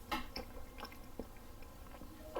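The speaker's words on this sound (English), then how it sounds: "You need to chew it, though." Someone chews a chewy, fatty salami made with white wine, garlic and pepper, with soft, irregular wet bites and squishes close to the mic and no talking.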